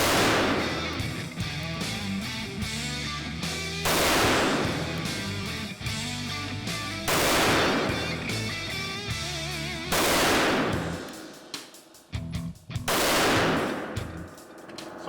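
Five loud pistol shots from a Ruger 57 or FN 5.7 handgun, spaced about three seconds apart, each a sharp crack with a ringing tail.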